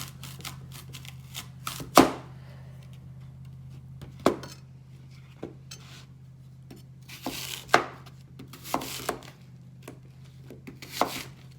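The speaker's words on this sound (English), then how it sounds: "And I'm going to take my chef's knife again and cut it in half." A chef's knife cuts Honeycrisp apples on a board, giving sharp chops at irregular intervals over a steady low hum, close and moderately loud, with no talking.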